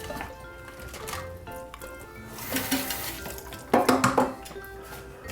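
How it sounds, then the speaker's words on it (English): Devil's food cupcake batter is mixed by hand in a bowl, giving soft wet squishing and stirring with a few sharper clinks of utensil against the bowl near the end, over a steady low background hum. "I'll take and mix this up by hand"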